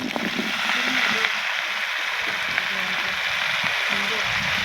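Rekha fish frying in a pan with egg, a steady loud sizzle of hot oil with crackling bursts, close and continuous throughout.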